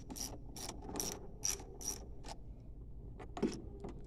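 A 10 mm ratchet clicks in a quick run of sharp pawl ticks while loosening the negative battery cable on a Nissan Titan or Armada, with a brief louder clack near the end and no talk.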